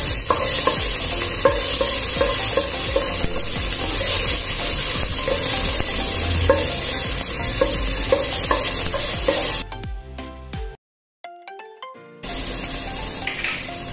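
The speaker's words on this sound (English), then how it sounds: "1 green chili finely chopped, and the whites of the spring onion. We'll just saute this for a minute." Chopped green chili and spring onion whites sizzle and fry in a pan for chicken and vegetable soup, with steady crackling and stirring scrapes throughout, then an abrupt break of music-like tones and near silence before the frying resumes.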